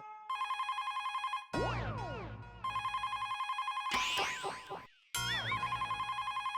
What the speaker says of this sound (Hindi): बेटा जरा फोन उठाना।